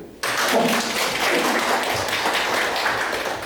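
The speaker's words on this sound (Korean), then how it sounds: "박수 한번 쳐주세요" An audience applauds at a Busan disaster-safety talk concert, the clapping bursting in abruptly and staying dense and steady for about three seconds before easing off slightly.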